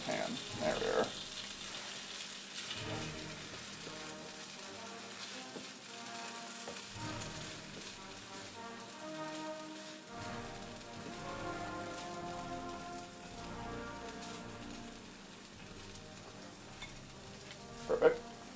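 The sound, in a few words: English breakfast sloppy burger cooking in a pan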